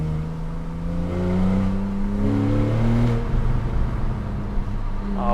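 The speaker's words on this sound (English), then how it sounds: "hopefully you can hear that exhaust just spitting and cackling away" Porsche 991 Carrera C4S with a valved exhaust, engine rising and falling in loud, close revs as the note sweeps up and back down, with rough burbling texture toward the end.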